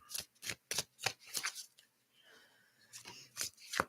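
A deck of playing cards being shuffled during a gathering, a series of crisp riffling bursts in quick rhythm, then a brief pause with faint room noise before a few more riffles, close and fairly quiet.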